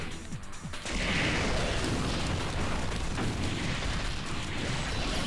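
War Machine fires his cannon in the fighting game Marvel vs Capcom, a sudden burst that swells into a sustained, loud, noisy blast lasting several seconds.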